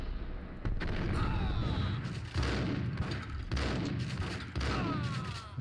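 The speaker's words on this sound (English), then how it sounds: "Shotgun blast to the face" Shotgun blasts from the Max Payne video game: four heavy, booming shots come at uneven intervals of about a second or more, and each one rings out into a sustained rumble before the next.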